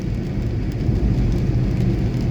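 Steady rain falling on a road, a dense continuous hiss and patter with a low rumble beneath, constant and close.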